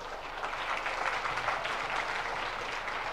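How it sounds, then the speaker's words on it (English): Audience applause at a sales motivation talk, a continuous even roar of many hands clapping at a steady moderate level throughout, with no speech over it. "yes, please clap for yourself"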